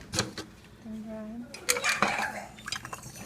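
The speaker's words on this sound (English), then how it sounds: "So while she's doing that, I'm going to pull out the jars." Glass jars pulled out for chokecherry jam knock and clink against each other in several sharp, close rattles, with some watery dripping in the background and a voice talking.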